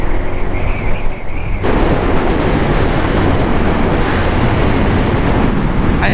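Strong wind roars across the microphone while riding along the coast in Vietnam, a loud steady rushing buffet that swells suddenly after a quieter start and stays close and continuous.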